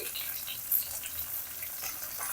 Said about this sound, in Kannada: ಸ್ವಲ್ಪ ಬಾಡಿದ ಮೇಲೆ ಅದಕ್ಕೆ ಟೊಮೆಟೊ ಸೇರಿಸ್ಕೊಳ್ಳೋಣ ಒಂದು ಟೊಮೆಟೊ ಹಾಕ್ಕೊಳ್ತಾ ಇದ್ದೀನಿ